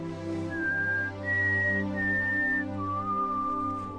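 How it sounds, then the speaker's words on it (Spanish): A man whistles a slow melody, the tune a girl used to signal during the games in The Hunger Games, several sustained notes in a row over a steady low orchestral drone. "mientras silba la melodía que Roo usó para comunicarse con Katniss durante los juegos"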